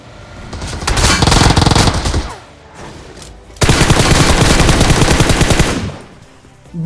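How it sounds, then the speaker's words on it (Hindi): Sustained bursts of rapid automatic gunfire from a bot in a video game, loud and close, two long volleys separated by a short quieter gap, with no talk. "तो पीछे कोई बोट फायर करता है"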